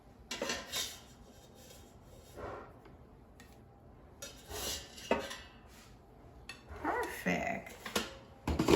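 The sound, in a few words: twice baked potatoes being taken out of the air fryer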